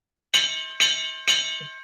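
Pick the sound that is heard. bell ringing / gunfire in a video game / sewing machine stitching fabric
bell ringing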